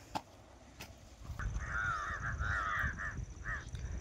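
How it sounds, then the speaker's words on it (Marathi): Crows caw in a lively outdoor flock, with several harsh calls overlapping from about halfway through and a short break before a final burst, all heard at a moderate distance over low background rumble. "आणि त्याच्यानंतर इकडे कावळ्यांचा बाजार भरलेला आहे, तुम्ही पाहू शकता"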